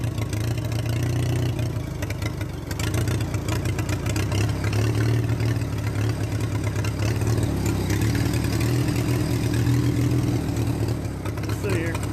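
A Minneapolis Moline BF tractor engine runs steadily just off idle with a fresh carburetor, a loud, close, even mechanical drone throughout with a brief voice over it.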